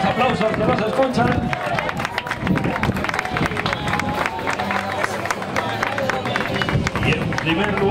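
Audience applause at a prize-giving for an open-water swim event, dense clapping from a crowd lasting throughout, mixed with cheering and general chatter.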